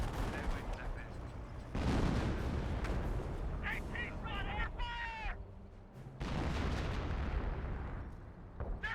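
Gunfire and artillery from the World War II strategy game Company of Heroes: rapid bursts of shots and heavy booming impacts come in clusters, with a brief quieter gap midway and faint battlefield chatter mixed in.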